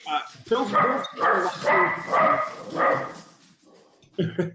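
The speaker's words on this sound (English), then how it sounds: "dogs are barking." Several dogs bark in repeated bursts, fairly close and loud, overlapping with people talking casually in a room; the barking comes in clustered volleys separated by short pauses.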